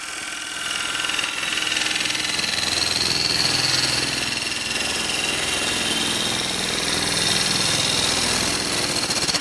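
A bowl gouge cuts a spinning wood burl on a lathe, making a continuous loud, gritty rushing hiss with a faint whine over a low motor hum, held steady for several seconds close by.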